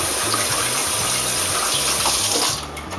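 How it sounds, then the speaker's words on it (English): Steady gush of running tap water as homegrown garden grape tomatoes are rinsed under a faucet, a continuous close splashing flow that eases slightly near the end. "So I'm going to rinse up some tomatoes right now."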